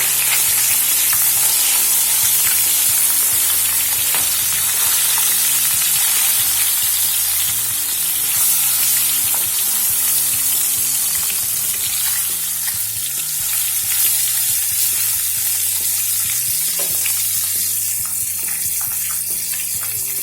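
Pink perch fish frying in a pan over a high flame, a loud, steady sizzle running throughout under a continuous layer of background music.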